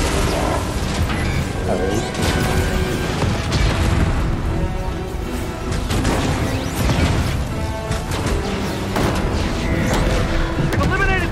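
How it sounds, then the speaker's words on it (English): Constant booms and crashes from rockets fired by blimps exploding in Fortnite, loud and dense with mechanical clatter, while a person talks over the chaos. "Keep shooting rockets at us."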